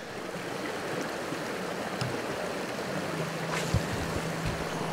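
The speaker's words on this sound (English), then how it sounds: "That's a waterfalls right there." A waterfall at a Michigan fishing spot pours out a steady, full rushing roar that holds unbroken for the whole stretch, with no voices over it.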